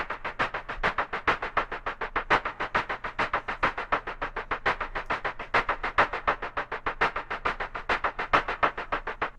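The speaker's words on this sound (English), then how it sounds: "I just took this shake a loop from a sample pack that sounds like this on its own." A shaker loop taken from a sample pack plays alone, a quick even stream of bright rattling shakes with a steady driving rhythm and a slight accent pattern, moderately quiet throughout.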